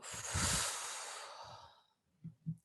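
A single long, soft exhale flows out for about two seconds, airy and close, followed by a couple of faint breathy puffs.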